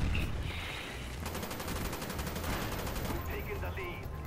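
Rapid automatic gunfire in the video game Call of Duty: Black Ops, a fast rattling burst in the middle with scattered shots around it, heard under a voice over game audio.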